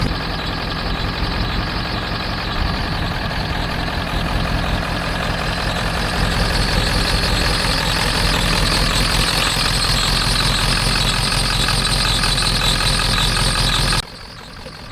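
A truck engine idles steadily, loud and close, a continuous low rumble with a rhythmic knock that runs unbroken for nearly the whole stretch before cutting off abruptly near the end.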